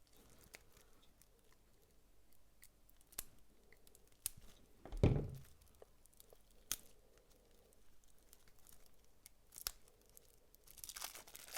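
Plastic wrapping on a Maquis Second Edition card game deck is torn open in one short, close ripping burst midway, with faint crinkles and light handling before and after.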